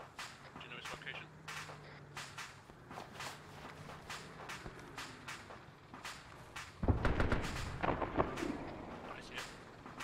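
Tank gunfire from a 76 in a video game: a series of sharp, booming shots spread across the stretch, with a heavier, louder roar of battle noise in the final few seconds.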